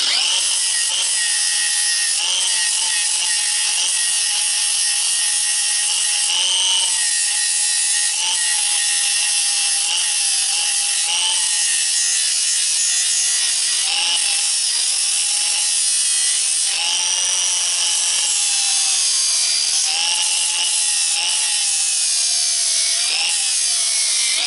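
A powered sanding disc grinds into the plastic of a Mora Eldris knife, a steady high whine broken by repeated rasping passes as the tool is pressed and eased off, close and alone.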